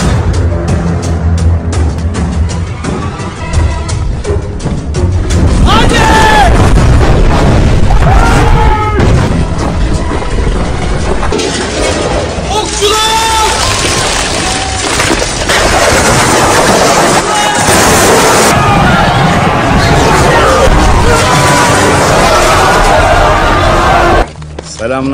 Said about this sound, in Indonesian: Sultan Mehmed pun mengeluarkan meriam basilika, meriam terbesar dalam sejarah.